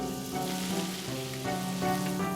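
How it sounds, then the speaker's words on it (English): Butter and oil sizzle in a pan on a cooking show, a soft, continuous crackling hiss under steady tonal background music, with no voices. "When it's sizzling nicely"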